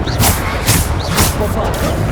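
Bombarda spell blasts in the video game Hogwarts Legacy, a few heavy booming bursts about half a second apart, loud and close, mixed with voice.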